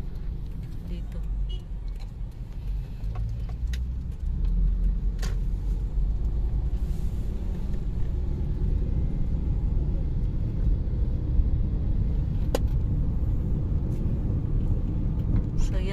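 Steady road traffic rumbles along a service road beside the SLEX expressway, a continuous low engine drone of passing cars and buses with faint ticks and clatter on top.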